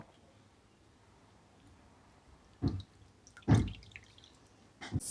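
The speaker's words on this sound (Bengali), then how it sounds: "হাতের সাহায্যে কিন্তু চটকে নিচ্ছি। খুব ভালোভাবে কিন্তু তেঁতুলের কাঠটা কিন্তু মিশে গেছে জলের মধ্যে।" Tamarind pulp squeezed and mashed by hand in a bowl of water for a summer drink, giving a few wet squelching splashes after a quiet stretch, close up.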